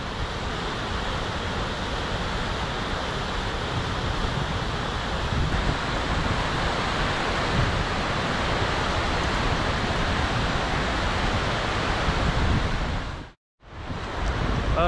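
The Cascade d'Ars waterfall in the Pyrenees roars in a steady, loud, continuous rush of water, unbroken except for a brief dropout near the end.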